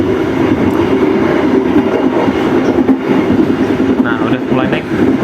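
From inside the Bengawan passenger train as it picks up speed after Cakung station, a steady loud rumble of wheels and carriage fills the clip, with faint rhythmic clatter throughout.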